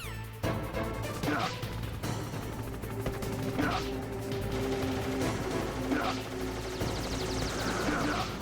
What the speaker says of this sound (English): you should be able to dodge the gunfire from behind while you rappel down